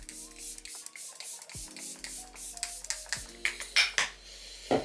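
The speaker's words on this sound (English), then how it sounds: "let's just give our face a spritz" Repeated short hissing spritzes of a face mist spray, close and fairly quiet, coming in quick bursts one after another.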